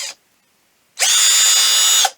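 Powerplus POWDP1511 20V cordless drill driver screwing, a short faint buzz of the motor followed by a steady, loud, high-pitched whine lasting about a second before cutting off.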